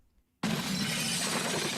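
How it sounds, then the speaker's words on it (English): A pickup truck smashes into a grocery store, and a sudden loud burst of shattering glass cuts in after a quiet moment, then sustains a dense crashing wash through the rest of the clip. "A pickup truck smashes into a grocery store"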